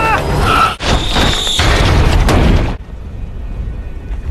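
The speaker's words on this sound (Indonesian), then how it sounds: "Dan ledakan pun tak terhindarkan, membuat seluruh zombie itu terhempas keluar." A loud, heavy grenade blast erupts with crashing debris and rumble, then cuts off abruptly to a quieter low background hum.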